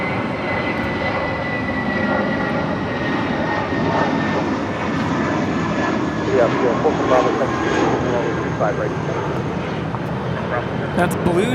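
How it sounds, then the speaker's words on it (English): A 16-year-old JetBlue Airbus A320 departing LAX for Seattle roars with a broad, steady jet rumble and a faint whine, while people talk over it throughout. "That's Blues Have More Fun, departing to Seattle with JetBlue, flight 806, 16-year-old A320."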